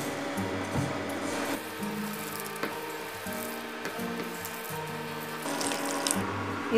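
Water poured into a spiced onion pakoda batter for a Mangalore-style recipe: a steady, continuous splashing stream with a faint tonal ring and soft ticks, close and moderately loud, with no voices.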